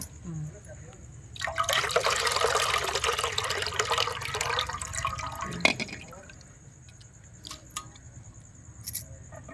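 Water runs steadily into a container at home for about four seconds, then stops, leaving a few faint drips and small knocks.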